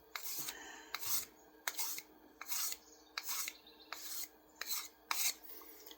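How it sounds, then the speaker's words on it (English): A knife edge is drawn across a strop in about eight rhythmic rasping strokes, close and fairly quiet, each a short scraping swipe with brief gaps between. "And a couple of strops."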